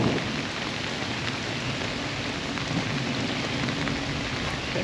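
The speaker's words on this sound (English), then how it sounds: "stormy day in Louisiana" Stormy weather in Louisiana, with heavy rain hissing steadily and a low rumble of thunder underneath, a dense continuous wash of sound with no voices.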